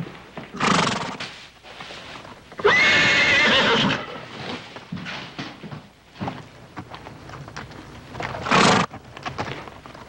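A horse neighs loudly nearby in a long shrill whinny, with a second shorter whinny later, over scattered hoof clops and shuffling.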